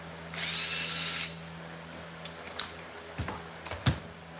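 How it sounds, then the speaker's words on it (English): A power driver buzzes in one steady burst of about a second, backing screws out of the shroud on a Stihl FS 91 string trimmer, followed by faint clicks and clatter of the parts being handled. "in order to take that shroud off, you gotta have these screws all the way out"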